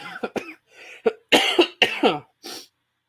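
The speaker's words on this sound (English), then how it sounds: "I got this horrible cough that just comes and goes" A burst of repeated harsh coughs, close and loud, in quick uneven succession with brief pauses, ending in a final short cough.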